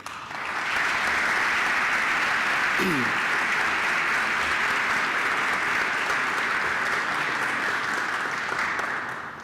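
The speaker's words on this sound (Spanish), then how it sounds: "Para él solicito un fuerte aplauso" A large audience of ambassadors and delegates at an Organization of American States ceremony gives steady, dense applause that swells in and holds evenly for about nine seconds before tapering slightly at the end.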